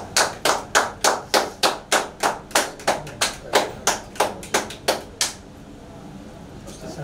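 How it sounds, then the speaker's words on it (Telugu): A crowd claps together in a steady, even rhythm, about sixteen sharp claps over five seconds, at a gathering in Ongole, then falls quiet with soft room noise. "చప్పట్లు కొట్టండి."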